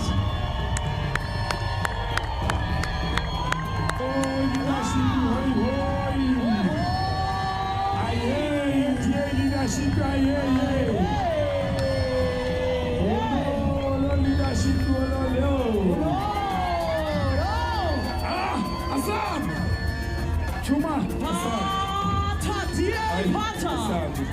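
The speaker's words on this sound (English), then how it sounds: "Let's give them a round of applause." A large crowd at a DA 2024 manifesto launch rally cheers, whoops and shouts continuously, with a dense roar of voices underneath and sung or chanted lines rising above it.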